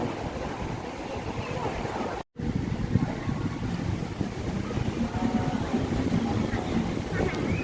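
Strong wind buffets the microphone at a seaside beach in Rayong, with a continuous roar and surf-like rush that only breaks for a brief dropout.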